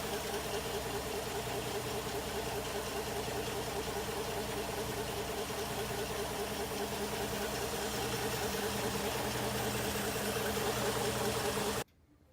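A 1960 Ford Falcon XK with an original, never-restored engine and a fuel-leaking carburetor idles steadily and close by, a low knocking rumble that runs evenly and then cuts off abruptly at the end.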